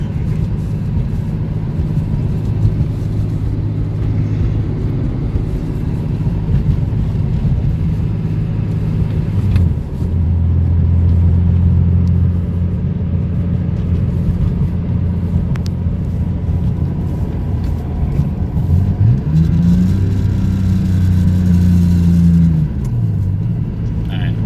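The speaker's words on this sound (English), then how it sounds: "all you could do is hear the turbocharger, the turbo" A turbocharged BMW E36 car engine drones steadily and loudly, building and shifting pitch as it accelerates, with a faint turbo whine rising over the low rumble.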